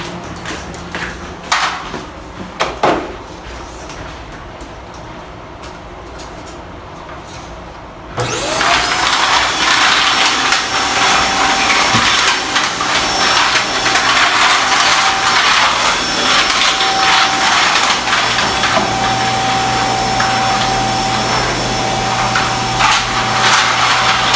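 Faint rustling and clatter give way to a vacuum cleaner switching on, its loud, steady whine and roar running continuously close by.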